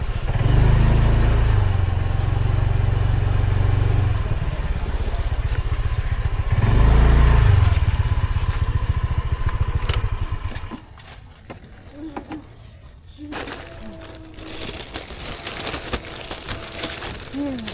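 Motorcycles at a biker gathering rumble and rev loudly for about ten seconds, then fade to quieter clatter and background noise while people talk.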